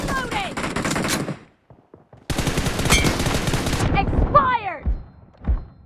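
Loud automatic gunfire from BGMI during a team deathmatch, two long bursts separated by a short pause, followed by scattered shots and game effects trailing off.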